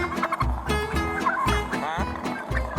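A wild turkey gobbles repeatedly during mating season, loud, close rattling gobbles in quick bursts with no talk over them.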